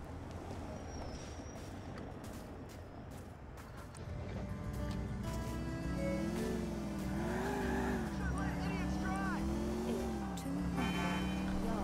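A car engine in Grand Theft Auto IV hums at low revs and then rises and falls as it drives, under game background sound and some voices.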